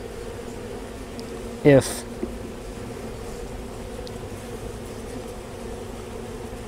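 Honeybees in an opened hive give a steady low drone throughout, with one brief louder buzz as a bee passes close by.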